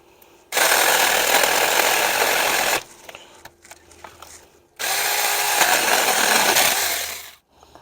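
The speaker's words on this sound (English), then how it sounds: "Go ahead and start taking off some of these bigger pieces here, which is really why I wanted the chainsaw more than anything else." A Saker 4-inch mini chainsaw, a 20V cordless battery saw, cuts through thick wood in two loud, steady buzzing bursts. A short quieter pause with light clatter separates them, and the motor winds down at the end.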